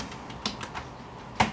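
A few separate keystrokes are struck on a computer keyboard, close and fairly crisp, with the sharpest tap at the end and a quiet pause between them.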